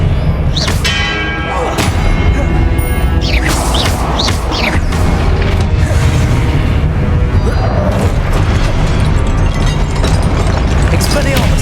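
Spell blasts and explosions in Hogwarts Legacy: loud booming impacts and ringing bursts in rapid succession, with a voice casting spells over the combat.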